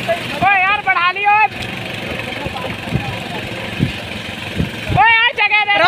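A motorcycle engine runs steadily at a morning race competition, a continuous mid-pitched drone throughout while people shout and talk over it.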